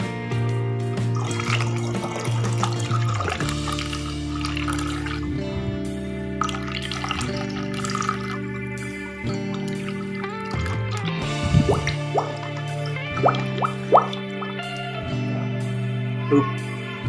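Bacterial liquid culture is poured into water for anaerobic PGPR fermentation, giving a continuous close trickle and splashing with scattered drips and glugs, no voices.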